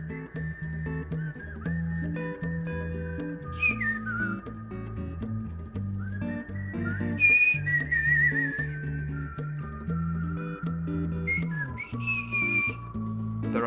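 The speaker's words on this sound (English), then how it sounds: "That's why they're whistling." Whistled melody lines float over a bouncy song with steady bass and beat, bright and clear throughout.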